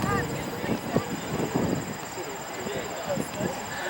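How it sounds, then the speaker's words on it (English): At an airshow, the engine of a MiG-17F jet fighter drones steadily from a distance under a broad wash of outdoor noise, with a voice heard over the public address. "prepares to depart in the MiG-17F"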